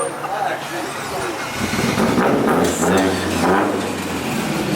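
Car engines rumble and rev as cars roll out of a car meet, with loud, uneven surges under overlapping nearby talk.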